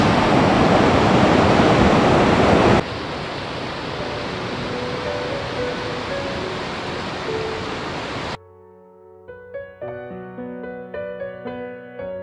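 Ledge Falls, a cascade in Baxter State Park, Maine, gives a loud, steady rush of falling water that fills the first several seconds, then softens before giving way to gentle music.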